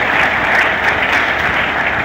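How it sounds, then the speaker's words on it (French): Steady, dense audience applause at a vocational training centre inauguration, loud and continuous throughout without a break. "Je vous demande de vous applaudir"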